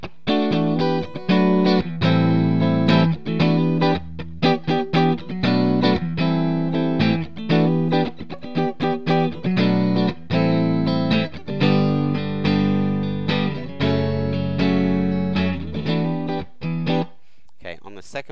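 A Fernandez 70s Strat copy played clean through a Ceriatone JTM 45 amp with no reverb, strummed chords and picked notes ringing loudly and continuously, with a few brief pauses between phrases.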